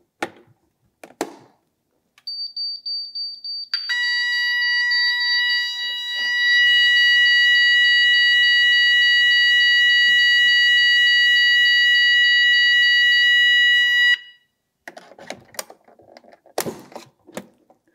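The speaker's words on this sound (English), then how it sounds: "when there is a fire alarm, the panel's buzzer goes off along with the sound and visual from our visual alarm device." Fire alarm demonstration on an Ajax EN54 panel: a beeping panel buzzer starts first, then a loud, steady multi-tone sounder wails continuously for about ten seconds before cutting off, with faint clicks and handling noise around it.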